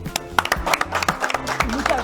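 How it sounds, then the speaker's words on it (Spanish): An audience at a book fair opening applauds the author, quick uneven claps ringing out close by with a voice talking over them throughout. "un aplauso a Lola"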